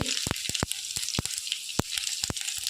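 Cumin, mustard seeds and crushed garlic frying in ghee for a green moong dal tadka: sharp, scattered pops and crackles over a steady hiss, close and fairly loud.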